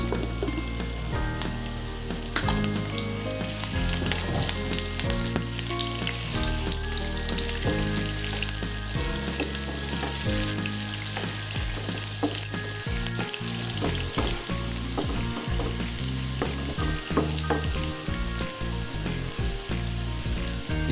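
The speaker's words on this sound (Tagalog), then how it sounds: "Maggisa tayo ng bawang," Garlic, onion and chili frying in hot cooking oil give a continuous close sizzle and crackle, heard under steady rhythmic background music with a thumping bass line.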